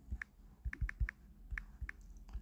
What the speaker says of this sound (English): I don't want the microphone. I want to use the keyboard.